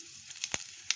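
Fennel seeds dropped into hot ghee give a sharp hiss with a few quick crackling pops, brief and close by within a quiet kitchen.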